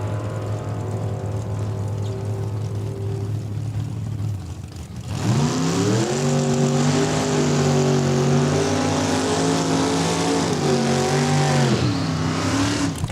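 Drag race cars launching off the start line at Saskatchewan International Raceway, a steady idle rumble suddenly giving way to a loud, rising engine roar that holds at high revs, close and dominant.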